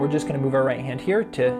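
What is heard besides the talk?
No everyday noise stands out behind the speech.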